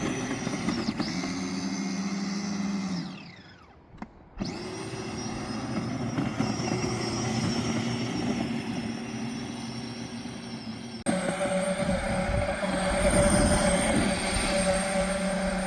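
Power Wheels ride-on toy with an upgraded 7R gearbox running at 18 volts, a steady loud whining motor and gear drone that dips briefly, then resumes and shifts to a rougher, higher-pitched whir near the end.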